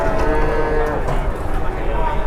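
Javanese cattle mooing loudly and close, a long sustained low bellow with a harmonic drone, heard during a cattle duel.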